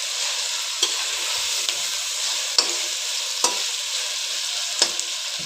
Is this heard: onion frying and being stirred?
yes